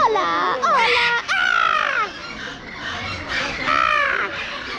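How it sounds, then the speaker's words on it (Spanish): Harsh, raucous squawks from a flock of parrots, several overlapping calls in bursts with brief gaps, fairly close and loud. "Me encantan los loros, me encanta su ruido."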